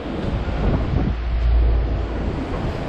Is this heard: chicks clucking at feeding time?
no